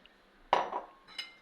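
A single soft pour of milk into pancake batter in a bowl, with one brief clink of a utensil against the dish and a faint tap after, quiet and close.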